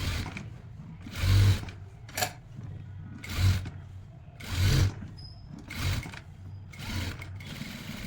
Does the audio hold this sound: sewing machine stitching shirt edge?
yes